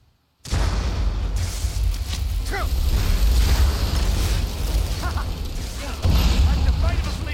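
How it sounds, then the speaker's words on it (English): A lightning spell blasting the player in the video game Skyrim, a loud sustained crackling roar with bursts and rumbles, starting abruptly after a short silence and continuing throughout. "he's just blasting us with lightning"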